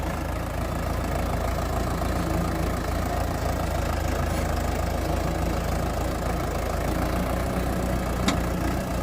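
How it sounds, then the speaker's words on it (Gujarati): A tractor engine idles steadily at close range before levelling farmland, a continuous low rumble with a faint knocking character that holds unchanged throughout, with no voices. "જમીન લેવલ કરવા માટે આવી ગયું ટ્રેક્ટર"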